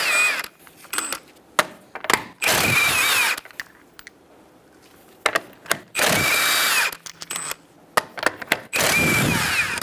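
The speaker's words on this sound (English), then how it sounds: "I'm going to use a 21mm socket." Power tool with a 21mm socket spinning off the rear wheel lug nuts on a 2010-2013 Kia Soul, loud close bursts of whirring and rattling repeating several times with short pauses and clicks between them.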